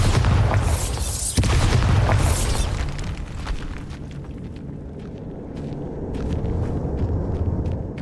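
A Bombarda blasting spell explodes in Hogwarts Legacy, starting with a heavy roaring blast and a sharp crack about a second in. The rumble then fades into scattered debris clatter and faint footsteps.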